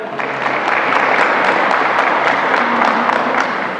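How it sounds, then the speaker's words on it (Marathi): An audience at a guidance camp for borrowers in Aurangabad claps steadily and loudly, a dense, even wall of hand claps sustained for several seconds with no talking. "ज्यांना बरोबर वाटतंय त्यांनी टाळ्या वाजवा प्लीज"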